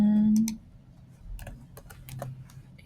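Clicks and keystrokes on a computer keyboard while entering a formula in an Excel spreadsheet, a few scattered taps after a short low tone at the start, fairly quiet with faint background.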